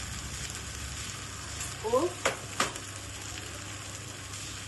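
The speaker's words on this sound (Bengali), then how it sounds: "নিয়ে আমি মশলাটাকে বেশ করে কষতে লাগলাম।" A steady, close sizzle of ground turmeric, cumin and coriander frying in oil in a pan for a Bengali potato, cauliflower and bhetki fish dish. A few sharper stirring scrapes break in midway, along with a brief word of speech.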